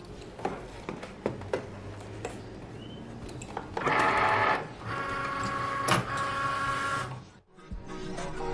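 A Cricut machine cutting printed paper on its mat for a print-then-cut Nike shirt design, giving a steady mechanical whir with small ticks and a louder sustained motor burst midway, close and alone.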